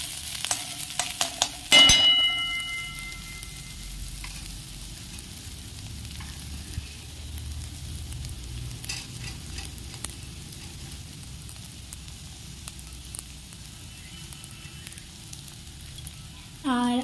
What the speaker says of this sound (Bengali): তো দেখো পেঁয়াজগুলো লাল লাল করে ভাজা হয়ে গেছে।